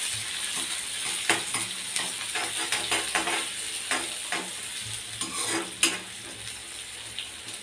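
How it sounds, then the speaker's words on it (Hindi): Onions fry with a bay leaf in a pan for a chana dal and bottle gourd dish, a continuous close sizzle broken by frequent stirring scrapes and clinks, with no talk. "इसी के साथ प्याज डाल देंगे। प्याज को हमें अच्छे से गोल्डन होने तक पकाना है।"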